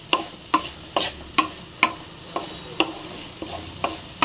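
A spoon scrapes through green peas and masala for pattani sundal in a pan, about ten steady strokes roughly every half second. A soft sizzle runs underneath, close and with no talking.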